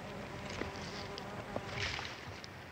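Bees buzzing around garden plants, a soft continuous insect drone with a few brief louder passes close by, low in level against a quiet outdoor background.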